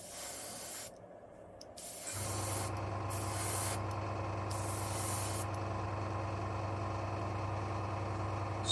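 AK Super Chrome paint is sprayed on in a light coat, a steady, close hiss that starts after a short pause and continues evenly with brief dips, with no voices.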